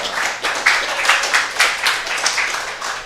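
Steady applause from a high school football banquet audience, many hands clapping together in a dense, continuous patter that swells in a few places over three seconds.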